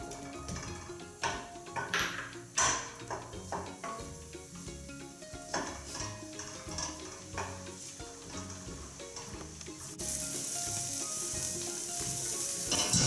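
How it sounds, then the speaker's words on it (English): Shallots fry in melted butter in a pan over low heat, with steady close sizzling punctuated by repeated scrapes and clinks of a utensil stirring against the pan, the sizzle swelling louder toward the end. "We wait for that to melt and then we can add in our shallots. Okay, shallots in."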